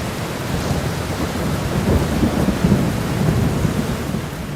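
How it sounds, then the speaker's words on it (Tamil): A big storm with heavy rain and low rolling thunder, a dense continuous wash of rain under deep rumbles that swell in the middle, loud and close. "ஆனா திடீர்னு ஒரு நாள் ஒரு பெரிய புயல் வந்துச்சு."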